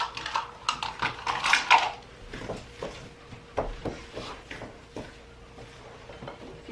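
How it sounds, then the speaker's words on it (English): Eggs being cracked against a bowl for homemade chewy granola bars in a home kitchen, giving a few short sharp taps and clinks among dish and utensil clatter, close by. "Now we're going to crack 2 eggs."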